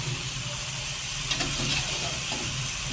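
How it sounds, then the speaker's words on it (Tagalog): Onion, garlic, ginger, pepper and tomato sauté in a pan with a steady close sizzle and hiss, a few faint stirring scrapes over the constant frying noise. "Saute. Onion, garlic, ginger, pepper, tomato."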